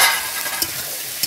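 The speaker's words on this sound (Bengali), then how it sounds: "ভালো করে মশলাটা কষিয়ে নেব।" Spices being fried and stirred with chopped onion and tomato in a pan for cauliflower korma, a steady hiss broken by a couple of brief scraping stir sounds.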